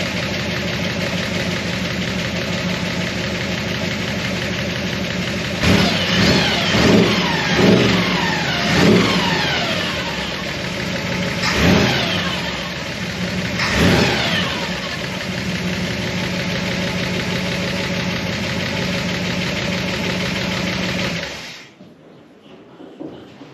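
Car engine with a TH400 automatic transmission idling, then revved several times in sharp bursts and run through the gears, loud and close, with a steady whine underneath before it cuts off near the end.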